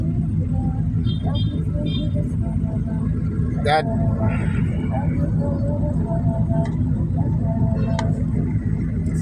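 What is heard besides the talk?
road traffic noise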